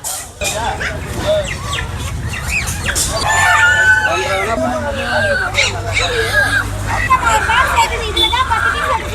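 A rooster crows amid a busy weekly animal market in Pallavaram, with crowd chatter and other fowl clucking in the background.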